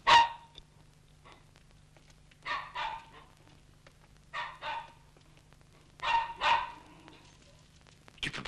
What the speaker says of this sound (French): Tu peux pas faire taire ton chien